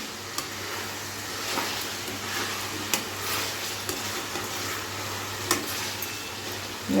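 Chicken being mixed by hand or spoon with salt and turmeric for a Telugu-style chicken fry, giving soft, steady scraping and stirring noise with a few sharper clicks against the bowl, close and moderately quiet, with no talking.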